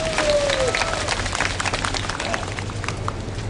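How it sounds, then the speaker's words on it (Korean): Applause from an audience of Korean War and Vietnam War veterans at a lecture hall talk, dense clapping spread across the whole stretch, with a low hum and scattered voices underneath. "자축하는 박수를 보내주시고 쳐주시기 바랍니다."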